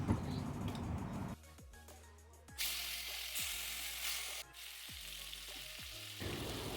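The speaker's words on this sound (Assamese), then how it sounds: "নিমখ হালধি দি মাছখিনি ভালকৈ ভাজি ল'ম।" Fish seasoned with salt and turmeric fries in a pan, with a steady near sizzle broken by a few sharp clatters and shifts in loudness as the pieces are moved.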